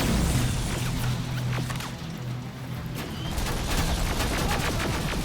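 Constant battle gunfire in a Terminator: Resistance fight, dense overlapping shots and crashes forming a loud unbroken wall of noise with no clear pauses.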